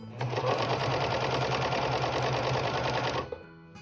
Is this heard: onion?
no